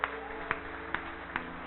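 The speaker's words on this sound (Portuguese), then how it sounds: "aplauda o Senhor, glorifica o Senhor" A church congregation claps together in a slow, steady rhythm during a celebration service. Four evenly spaced claps, each about half a second apart, ring out over a muffled, humming background.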